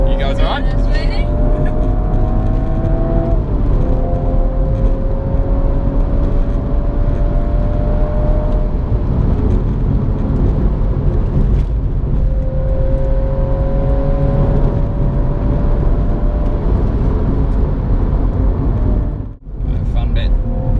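A BMW M135i runs laps on a track at a charity event, its engine droning loudly and continuously with rising and falling revs as gears shift, while people talk inside the car over it.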